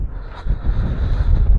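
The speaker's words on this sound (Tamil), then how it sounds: "காற்று பயங்கரமான காற்றுங்க" Strong wind buffeting a motorcycle rider on a misty ride near Valparai, a loud close gusty roar of wind noise over the microphone, with no talking.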